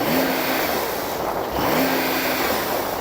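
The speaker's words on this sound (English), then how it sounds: "So I'm going to rev up this 911 Turbo S." A Porsche 911 Turbo S engine revs twice against its soft limiter, each loud rising roar held briefly and then dropping back, alone and close.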